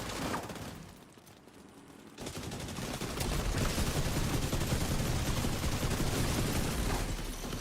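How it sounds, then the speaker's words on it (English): Gunfire in The Division 2 sounds as a dense, loud burst of rapid shots that carries on steadily for several seconds after a brief quieter lull, with no talking over it. "I'm just shooting."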